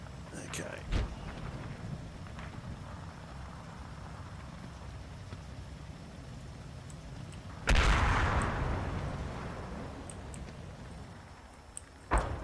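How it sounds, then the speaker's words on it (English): 81mm mortar fire in the Combat Mission war game gives a faint thump early on, then one loud blast with a long, fading rumble, over quiet battlefield ambience and occasional talk. "Could also be my 81mm mortars, that."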